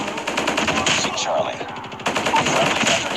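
Rapid automatic gunfire in the mobile shooter game Call of Duty Mobile, loud sustained bursts with a short break in the middle, then firing resumes.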